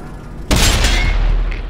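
A tank cannon fires in the World of Tanks video game, a single loud, close boom that bursts out suddenly and rumbles on through the rest of the moment.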